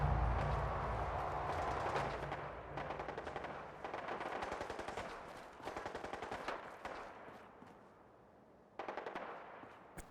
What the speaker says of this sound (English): I am hearing a lot of gunfire.